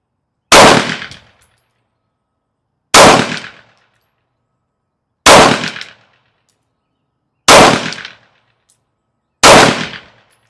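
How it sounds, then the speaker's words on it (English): Five loud, sharp pistol shots from a PSA Dagger Compact, fired at an even, unhurried pace a couple of seconds apart, each one a crack with a short ringing tail and silence between. "we are going to see what we can do with 5 shots"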